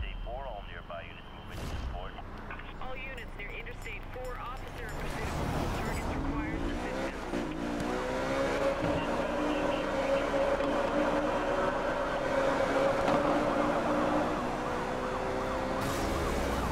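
A Ferrari sports car engine in a Need for Speed Rivals video game revs and holds a steady, loud roar, rising in pitch after a short quieter start, with a voice speaking briefly over it.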